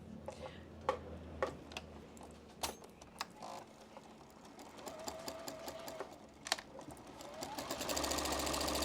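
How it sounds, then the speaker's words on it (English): Sewing machine with a walking foot stitching quilt blocks, a soft, steady rapid mechanical ticking that speeds into a continuous whirring run near the end, close and quiet, preceded by a few sharper clicks. "So all you've got to do is just start sewing."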